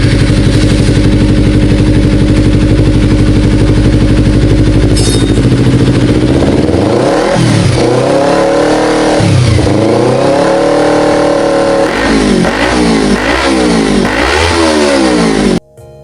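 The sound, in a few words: Kawasaki Z250 motorcycle engine revving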